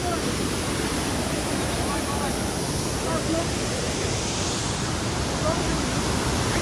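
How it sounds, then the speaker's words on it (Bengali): Waterfall in Meghalaya near a living root bridge and the Dawki River, a large volume of water pouring down in a steady, loud, continuous roar with no breaks. "জাস্ট ঝর্ণাটা দেখছো ওই দিক থেকে নামছে এত জল"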